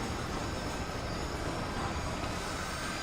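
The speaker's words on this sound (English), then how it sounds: "I'll wait for the train to pass" A train in Red Dead Redemption rolls past in a steady, dense roar of wheels and carriages that stays constant throughout with no talking.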